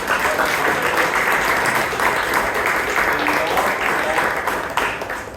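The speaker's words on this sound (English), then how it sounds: "So please give him a big round of applause" A Toastmasters club audience at an anniversary meeting breaks into a loud, steady round of applause that carries on throughout, with voices mixed in beneath the clapping.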